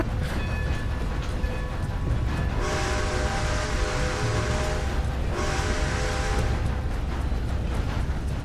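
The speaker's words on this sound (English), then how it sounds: "Time to start this train again." Steam train rolling along in Red Dead Redemption 2, a steady close rumble with tonal hum and a rising hiss of steam surging twice, continuous throughout with no talk.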